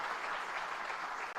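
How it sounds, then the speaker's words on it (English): Audience applause at a TiECon Chandigarh 2023 entrepreneurship event, a brief, steady burst of clapping from a crowd with no talking over it. "And can we have a round of applause?"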